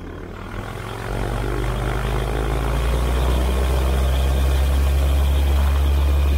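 A light plane's propeller engine idles at Fairmont Hot Springs, a loud steady drone with a deep low hum that swells after the first second and then holds.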